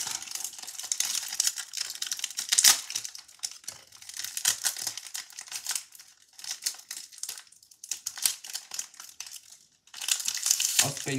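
Scissors cutting and tearing open the plastic packaging of a Hello Kitty toy water-squirting watch from an Easter egg, close crinkling and crackling in bursts with short pauses.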